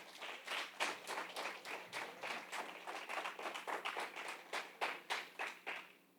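A church congregation at a worship service claps together in a quick, regular rhythm, many hands striking in unison beat after beat at moderate distance and fairly soft volume, with no voices over it.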